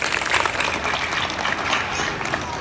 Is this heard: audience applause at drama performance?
yes